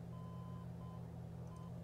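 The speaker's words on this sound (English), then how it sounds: "you hear the beeping, so you know you're on the beacon" Marker beacon tone in a Mooney M20R cockpit in Microsoft Flight Simulator, heard as a thin, steady beep in a few short bursts over a constant low engine drone.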